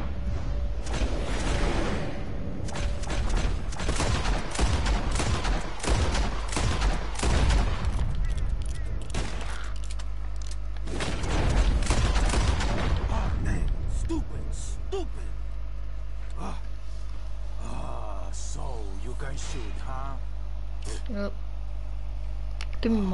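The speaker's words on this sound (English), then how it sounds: "Whoever shoots four birds out of the sky first wins." Gunshots fired at birds in the video game Red Dead Redemption, a cluster of sharp shots early on, then quieter ambience with a low steady hum and occasional chirps, with people talking throughout.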